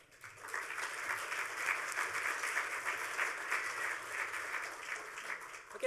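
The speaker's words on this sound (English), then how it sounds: "let's give these guys a round of applause" A conference audience applauds after an open source hardware talk, steady crowd clapping that holds evenly for several seconds at a moderate distance, then fades.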